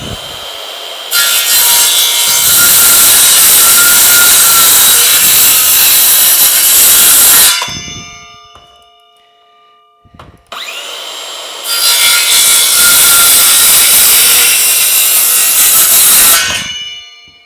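A power saw cuts across a wooden pantry door in two long, loud passes, the second along an angled line, each ending with the blade winding down before the second cut begins.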